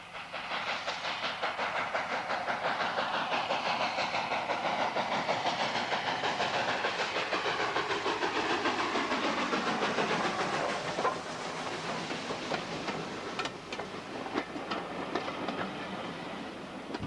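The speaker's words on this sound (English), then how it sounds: "The sound of the chime whistle echoes around Nene Park as number 7 departs from Ferry" Steam locomotive number 7 departing at Nene Park, a steady loud hiss and rumble of steam with rhythmic chuffing and clicking wheels as it pulls away, no clear whistle standing out.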